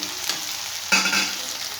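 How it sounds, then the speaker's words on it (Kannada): Onions frying in plenty of oil in a pan, a close sizzling hiss that swells sharply midway as they are stirred, with no voices. "ಇದೊಂದು 5 ನಿಮಿಷ ಇದು ಫ್ರೈ ಆಗಬೇಕು ಈರುಳ್ಳಿ"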